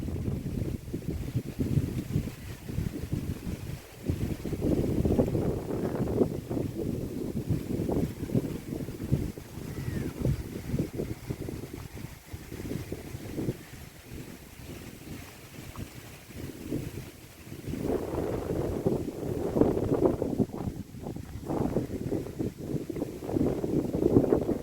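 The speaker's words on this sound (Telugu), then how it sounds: "ఈ గాలికి ఆకులు కదులుతుంటే సౌండ్ చాలా బాగుంటుంది." Steady wind blowing across coconut groves and paddy fields in the Konaseema countryside, a continuous broadband rushing with gusty swells that strengthen near the end, heavy with low rumbling wind noise on the microphone.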